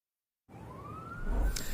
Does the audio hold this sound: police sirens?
yes